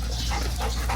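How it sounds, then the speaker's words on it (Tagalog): A dog makes short, close whining yelps over a low background rumble, lasting about a second. "Ito yung aso, guys."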